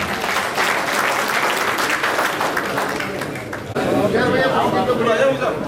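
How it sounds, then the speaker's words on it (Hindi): A crowd at a party headquarters fundraising event claps loudly and continuously, with chatter and voices mixed in. The sound shifts abruptly partway through as the clapping carries on. "ताली बजाए जोरदार"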